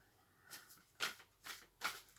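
Tarot cards are shuffled in a few quiet, crisp riffling bursts spaced about half a second apart, close and soft, with no talking.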